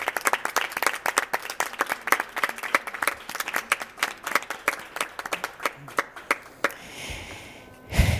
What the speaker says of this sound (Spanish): Y un aplauso para quienes no están y para quienes estamos en este momento